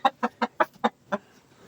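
Several hens cluck in a quick, steady series of six loud, close calls near a coop, followed by quiet.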